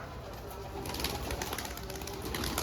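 Domestic pigeons in a loft coo softly and repeatedly, faint and close against a low background hiss, growing a little busier after the first second.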